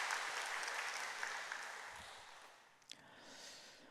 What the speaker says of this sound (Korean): 수고하신 분들에서 우리 감사의 박수 한번 드릴까요?